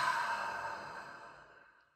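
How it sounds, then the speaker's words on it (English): A deep breath out during a guided breathing exercise, one long soft airy exhale up close that fades gradually to silence. "and a deep breath out"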